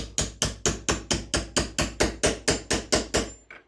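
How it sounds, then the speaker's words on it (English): About fourteen sharp metallic hammer blows strike a socket in a steady, even rhythm, driving it onto a string trimmer head, close and loud, with a softer final tap. "get your socket, and then hold the socket with your hand like that, and then hammer this in"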